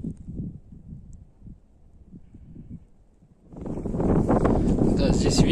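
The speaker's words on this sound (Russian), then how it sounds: "Да, здесь ветер уже мощный." Strong wind roars across the microphone on a mountain ridge above Yalta, a loud continuous buffeting in the second half that swells after quieter low rumbling at the start.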